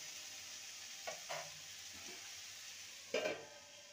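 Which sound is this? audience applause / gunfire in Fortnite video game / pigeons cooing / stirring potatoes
stirring potatoes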